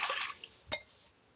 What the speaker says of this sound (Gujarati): હવે આપણે અબૂટ પાણીની તપેલી ભરી લઈએ